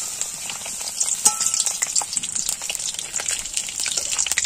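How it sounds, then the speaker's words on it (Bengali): Papad crackles and hisses as it fries in hot white oil in a wok, giving a dense, steady sizzle with small pops throughout and no speech. "কড়াই সাদা তেল দিয়ে দিয়েছি, তেলটা গরম হয়ে যাচ্ছে। এবার পাঁপড়গুলো আমি ভাজবো।"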